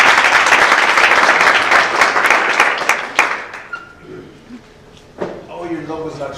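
An audience at a social media meetup claps in a loud, dense round of applause for the sponsors that fades out after about three seconds, followed by quieter room noise and a few faint scattered sounds.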